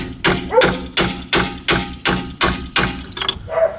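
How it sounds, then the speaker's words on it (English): A hammer strikes a chisel to break loose a rear wheel bearing on a 2009 Subaru Forester, about eight loud, evenly spaced metallic blows in a steady rhythm, close up and without talk. "I might just put a chisel in here and see if I can get this loose"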